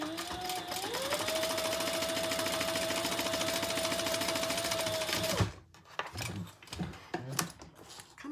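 A sewing machine stitches across the bottom of a crossbody bag in one loud, steady whirring run of about five seconds, then stops, followed by a few handling clicks and thumps.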